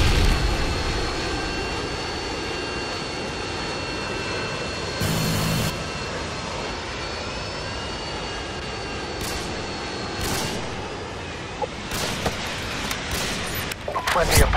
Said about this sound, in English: Friendly Apache inbound.